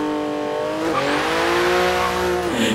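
A Porsche 911 Turbo S (991) in Forza Horizon 3 launches from about 6000 RPM, its engine droning high and then surging as revs climb under brief wheelspin, loud and close with no voices.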